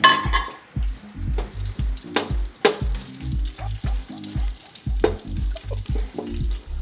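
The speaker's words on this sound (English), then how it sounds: "I'm going to put in my salted fish, aka momone, to fry it a bit" Salted fish (momone) sizzles and spits in a hot pan, with repeated clattering stirs and scrapes in a steady rhythm, close and fairly loud, no talking.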